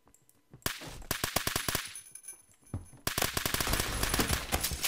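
Automatic gunfire in the video game Phantom Forces: rapid loud bursts of shots, a short stretch of rattling fire, a pause, then a sustained dense volley, close and alone without talk.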